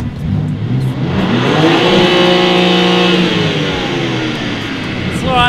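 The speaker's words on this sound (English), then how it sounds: "every car that I get, every car that I sit in, I have to do the sound check" A BMW G82 M4 Competition engine revving loudly up close, climbing in pitch to a sustained high-rev roar before easing back down, with no one talking over it.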